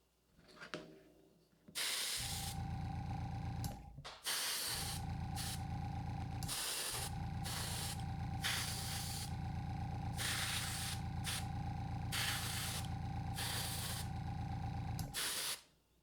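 Spray paint hisses onto a miniature's road base in long close bursts, broken by brief pauses, loud and steady with a faint tone under the spray.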